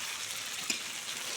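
Boiled duck eggs and potatoes frying in oily masala, a steady close sizzle with one brief pop, lasting just over a second before cutting off.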